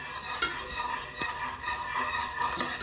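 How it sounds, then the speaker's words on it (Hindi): Spoon stirring custard mixture in a cooking pan for custard kulfi, a steady close scraping swirl with faint clinks against the metal, continuous and without talk. "एक हाथ से हम इसको चलाते रहेंगे और एक हाथ से इसको डालते रहेंगे"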